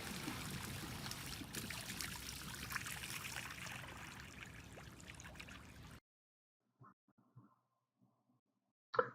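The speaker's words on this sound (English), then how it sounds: "Full pipe of water." Water pours steadily through a full lawn drain pipe, a continuous gurgling trickle that stops abruptly partway through, leaving near silence broken by a few faint knocks.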